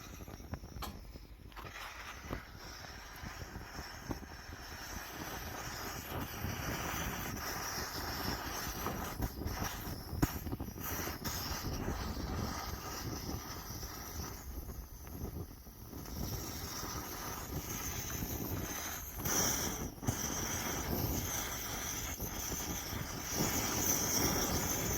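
An antique Svea 123r camp stove, saved from the dump, burning with a steady roaring jet, close and continuous with gusty rushing noise throughout.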